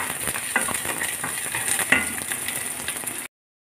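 Bay leaves, cinnamon, cloves and cardamom fry in hot oil for a mutton biryani, making a steady crackling sizzle with small clicks that cuts off abruptly.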